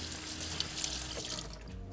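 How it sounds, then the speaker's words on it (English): Mushrooms being washed under a running kitchen tap, a steady close hiss of water splashing into a sink for the whole stretch with no talk. "I'm just gonna wash my mushrooms here"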